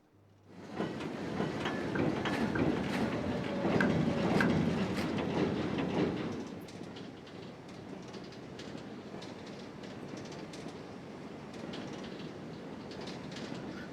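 An EE Type 3B locomotive moves wagons in Train Simulator, with rumbling rail noise and clickety-clack rising to a fuller passage, then settling to a quieter steady roll with faint clicks.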